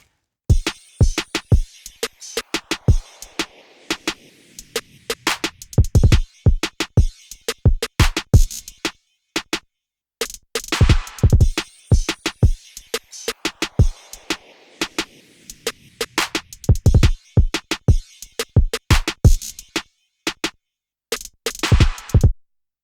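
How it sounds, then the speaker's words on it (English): A punchy drum loop in Logic Pro with sharp kicks and snappy hits in a tight repeating rhythm, the pattern cycling twice with brief gaps. "Let's just have a listen to a beat loop."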